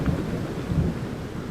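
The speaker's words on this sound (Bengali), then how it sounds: "আকাশ বেশ ঘন কালো মেঘে শুরু হয় বাতাস আর বৃষ্টি।" A storm of wind and rain, rendered as a sound effect, gives a dense steady rumble and roar of downpour with low thundery weight, unbroken and alone.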